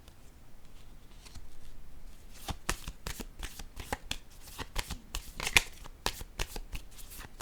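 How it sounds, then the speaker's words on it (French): Playing cards being handled and laid down one at a time during a tarot reading, giving a run of crisp, close snaps and soft slaps at an uneven pace, fairly quiet, with no talk over them. "Je vais déposer une carte ici encore une fois"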